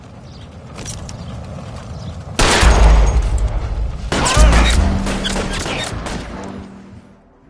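Gunfire in a console video game crashes out in two heavy, loud bursts with rumbling booms, trailing into mechanical creaks and clatter.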